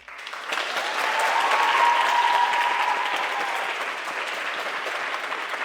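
An audience applauds dancers at a live show, a broad, sustained burst of clapping that swells in the first second and holds steady, fading only slightly toward the end.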